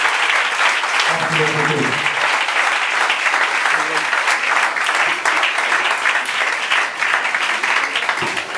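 Sustained applause fills an ordination ceremony in a church, loud and steady throughout, with a voice speaking briefly over it near the start.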